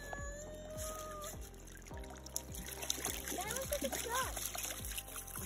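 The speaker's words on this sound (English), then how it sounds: "Let's go rinse it off." Water pours and splashes over a container dug up at an abandoned glass factory site, rinsing it in uneven bursts and trickles while someone talks nearby.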